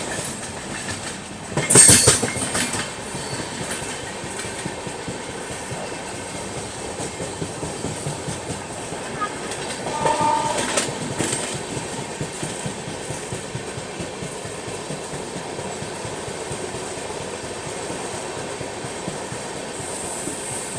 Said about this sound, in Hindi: अभी हम लोग स्किप कर रहे हैं विरमगाम जंक्शन रेलवे स्टेशन को